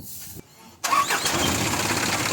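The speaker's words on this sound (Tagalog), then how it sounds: "After ko masalinan yan, pa-start ko itong makina." Engine of an Isuzu Elf truck starting: a short starter crank, a brief pause, then the engine catching and settling into a loud, steady idle close by.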